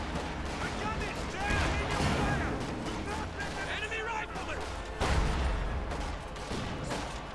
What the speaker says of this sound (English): And there you go, grenade went off.